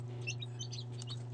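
Newly hatched crossbred Rhode Island Red chicks peep in quick, high-pitched chirps over a low steady hum, several short calls overlapping in a brief burst.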